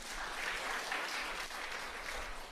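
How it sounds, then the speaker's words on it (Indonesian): A church congregation claps together in sustained, fairly soft applause that rises and falls slightly in a large room. "Tepuk tangan buat kita."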